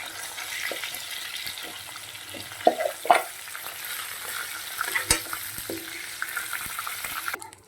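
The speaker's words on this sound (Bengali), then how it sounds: "দেখুন মাথা ভাজা হয়ে গেছে, এবার আমি তুলে নিচ্ছি" Fish heads frying in hot oil, a steady sizzle broken by scraping and clinks of a utensil as the pieces are stirred and lifted out, close by.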